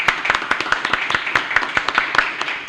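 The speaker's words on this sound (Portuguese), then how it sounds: "Uma salva de palmas para vocês." A small group clapping at a podcast recording session, a close, brisk run of distinct hand claps in fairly regular rhythm, moderately loud and alone.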